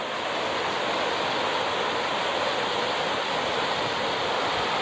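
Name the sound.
waterfall water feature facing a palace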